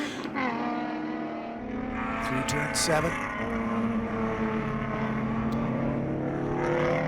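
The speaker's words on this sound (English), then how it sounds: "You can hear the wail of that V6 Mustang using the torque up the hill." A loud V6 Mustang race car engine holds a rising, harmonic wail as it climbs a hill at the SCCA National Championship Runoffs, while a commentator speaks briefly over it.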